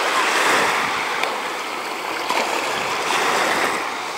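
Waves washing onto a beach near Agia Anna on the Greek island of Naxos, a steady broad rushing surf with soft swells and wind, loud and close with no talking.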